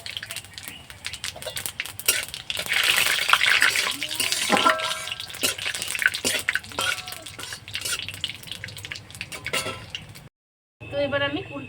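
Panch phoron spices, added after bay leaf, fry in hot oil as the base for a sweet-sour jujube pickle. Close, loud sizzling crackle comes with stirring and pan clatter, then a brief silence before the sizzle resumes.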